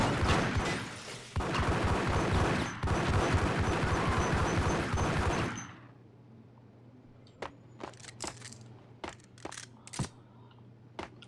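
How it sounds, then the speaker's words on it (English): Heavy continuous gunfire from the Xbox game Max Payne rattles loudly for several seconds, then stops abruptly, leaving a quiet hum punctuated by sparse single clicks and shots. "Oh, lady shooting."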